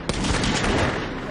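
A single sharp gunshot fired at close range from behind a parked van, followed by a dense, loud burst of sustained noise that fills the rest of the moment.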